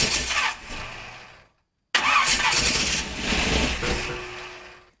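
A 1951 Dodge Wayfarer that had been sitting for years cranks over, pauses briefly, then cranks again and catches, running loud and close with a rough, uneven rhythm.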